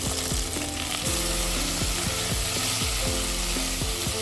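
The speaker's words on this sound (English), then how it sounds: "When oil is ready, add beetroot and carrot. Fry for a couple minutes." Beetroot and carrot sizzle steadily in hot mustard oil, a constant crackling fry with occasional stirring scrapes, close and continuous.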